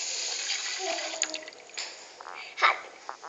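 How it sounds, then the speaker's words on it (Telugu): Water is poured into an electric rice cooker over rice, a close, uneven splashing and trickling that rises and falls in short surges. "ఒక గ్లాస్ బియ్యంకి 2 గ్లాసుల వాటర్ యాడ్ చేయాలి."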